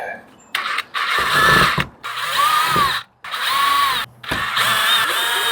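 A power drill boring holes into the metal roof of a Class B camper van, whining in several bursts of about a second each, separated by short pauses, with someone talking in between.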